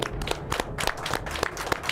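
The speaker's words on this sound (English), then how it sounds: "let's give a round of applause for the Sharks" A small audience claps for an under-8 boys' soccer team called the Sharks, giving short, sparse, fairly quiet applause with individual claps standing out.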